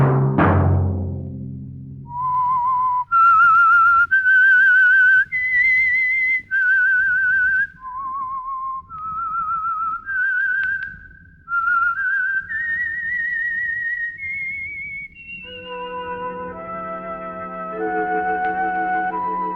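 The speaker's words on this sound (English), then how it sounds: "Let that whistle be your signal for the Signal Oil program, The Whistler" A lone whistler performs the eerie signature tune of the old-time radio mystery program The Whistler, a slow rising and falling melody of clear sustained notes, close and alone, closing on a sustained orchestral chord.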